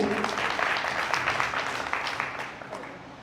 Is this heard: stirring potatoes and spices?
no